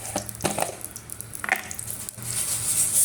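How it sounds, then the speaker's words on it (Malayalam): Dried red chillies dropped into hot oil for a Kerala lemon pickle, with a wet crackle and brief splutters up close, settling into a steady bright sizzle that grows toward the end. "അതൊന്ന് ചൂടാകുമ്പോൾ നമുക്ക് വറ്റൽമുളക് ഇട്ട്"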